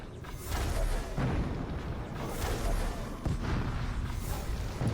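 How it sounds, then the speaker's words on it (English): Repeated deep booms of explosions in the video game Middle-earth: Shadow of War, several heavy blasts rolling one after another with rumbling low end throughout. "Are you ready for tons of explosions?"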